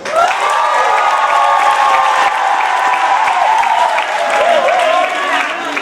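Applause and cheering from wedding guests at a civil marriage ceremony in Brazzaville, a dense, steady wash of clapping mixed with crowd voices and shouts that holds loud for the whole stretch.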